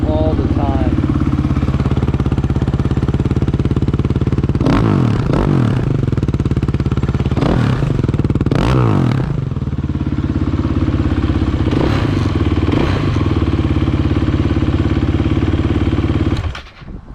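A 2008 Husqvarna SMR 510 motorcycle engine runs steadily close by on a cold start, its idle punctuated by several short throttle blips and revs, with people talking briefly over it.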